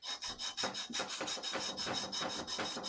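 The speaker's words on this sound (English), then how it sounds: "I like to take a little sandpaper, rub it down" Sandpaper rubs down a wooden axe handle in a steady rhythm of short, close scratchy strokes, about three per second, with no voices.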